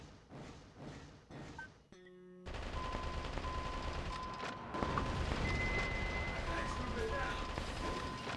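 Rapid bursts of gunfire cut down enemy soldiers in the mech game Metal Wolf Chaos XD, loud sustained shooting with heavy thuds and crashes layered over game sound after a brief lull.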